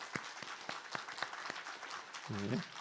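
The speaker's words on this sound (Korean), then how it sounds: "그래서 유사시에는 반주도 가능한 그런 우리 큰 박수로 환영하도록 하겠습니다." Applause in a Sunday church service welcoming a new evangelist, heard as a steady run of separate, evenly spaced claps at moderate level, with a short voiced sound near the end.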